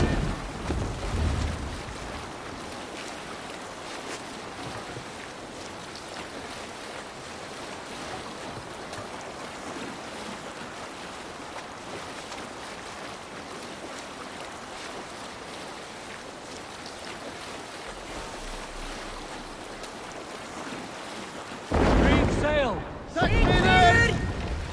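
Steady wind and rushing water roll around a longship under sail in Assassin's Creed Valhalla, a constant broad whoosh that swells into a loud, close gust near the end.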